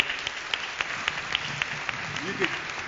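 Applause from an audience at an Old Church Acoustic Series concert, light scattered clapping that stays moderate and steady over a few seconds with a voice faintly underneath.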